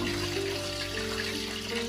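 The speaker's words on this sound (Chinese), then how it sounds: "再放入提前准备好的温水里面，将五花肉浸泡一会儿" Pork belly lowered into a basin of warm water to soak, giving a steady, close watery wash and swirl with a faint hum underneath, no talking.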